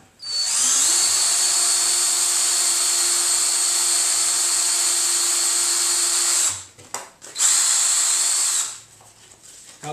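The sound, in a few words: sanding the end of a casting tube with sandpaper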